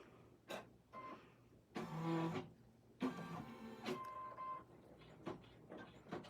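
An embroidery machine tacks down a baseball and soccer ball split appliqué, running in several mechanical bursts of whirring and tapping with brief pauses between, quiet and close with no talk.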